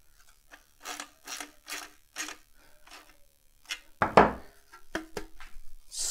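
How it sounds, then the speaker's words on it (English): Bolts being fitted back into a Brixton Felsberg 125 motorcycle: a series of close, faint scraping and ticking metal strokes at a steady pace, then a louder clank of a part settling and a few more light clicks. "I'm gonna put a bolt in here. Let's place these bolts back."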